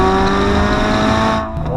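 A sports car engine, an Audi RS3 or Mercedes A45 AMG, holds a loud, steady high-pitched rev for over a second, then drops off briefly.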